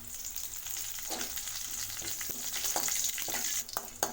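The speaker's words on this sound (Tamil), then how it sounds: "கருவேப்பிலை எண்ணெய் நல்லா பொரிஞ்சிருச்சு" Curry leaves frying in hot oil in a pan, with dal and chana dal, while cooking Tamil-style beetroot rice: a dense, continuous close sizzle with small crackles and occasional stirring clicks.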